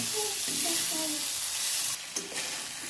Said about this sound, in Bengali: আমি যে ডুমুর আর আলু ভেজেছিলাম সেটাকে দিয়ে দেবো দিয়ে একটু কষিয়ে নেব